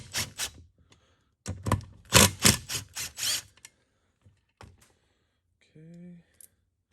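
An 8mm socket on a ratchet works bolts loose from a 1994 Honda CR250 engine, giving bursts of close, crisp clicking and rattling, followed by quieter taps and a brief voice.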